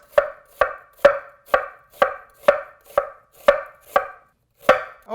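A knife slices a vegetable on a cutting board, loud, even, close strokes landing roughly twice a second, about eleven in all, with no voices.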